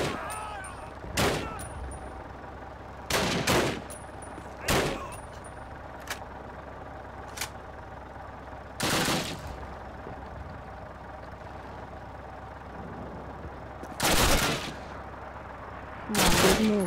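Semi-automatic rifle fire in Call of Duty on Veteran mode, sharp single shots spaced irregularly over a low rumbling background, some in quick pairs, loud and close.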